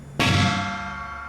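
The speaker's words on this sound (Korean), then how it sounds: "캥이라고 쓰인 쪽은 북소리와 징소리를 같이 내는" A Korean drum and gong are struck together once during a traditional rhythm lesson, giving a single sharp, loud clang that rings on and slowly fades.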